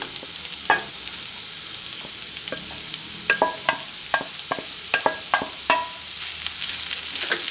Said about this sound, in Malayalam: ഇതിട്ട് നന്നായി ഇളക്കി കൊടുത്ത്